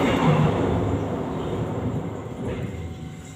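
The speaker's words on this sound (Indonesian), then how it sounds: "nah itu kereta apinya lewat" A train rolls past with a loud, steady rumble and rattle of wheels that fades slightly as it moves on, with no one talking.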